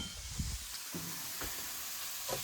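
Sliced green onions are stirred into a quietly sizzling pan of pork and cabbage stir fry with the heat turned off, giving a steady soft hiss broken by a few faint scraping stirs.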